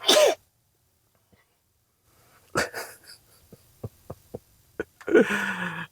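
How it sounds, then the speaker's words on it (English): Behind the camera during an RV repair, a person sneezes sharply several times, each burst loud and close, separated by quiet stretches with a few small clicks and breaths. "Cameraman sneezing in the back."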